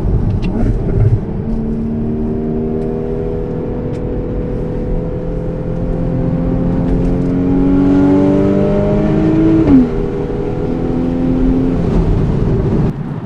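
A Porsche sports car engine drones and rises in pitch as it accelerates, a low throaty rumble heard from inside the car with road noise.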